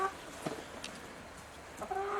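Several soft, scattered clucks from chickens at a distance, a few brief calls spaced out over a quiet background.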